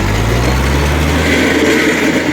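A four-cylinder, four-wheel-drive farm tractor runs close by with a loud, steady low diesel rumble near idle and no one talking.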